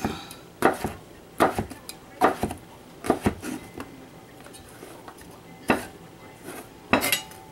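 Carrot is chopped fine with a knife on a board, giving irregular bursts of sharp, close tapping and knocking, some in quick pairs, with brief pauses between them.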